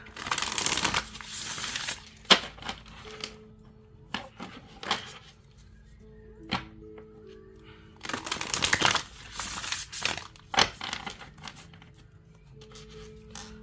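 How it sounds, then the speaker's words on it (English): Tarot cards being shuffled by hand during a pick-a-card reading, several bursts of brisk riffling and flicking with short quiet pauses between them, close and fairly soft with no talk. "Let me shuffle them."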